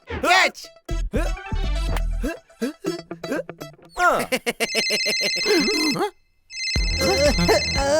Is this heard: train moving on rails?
no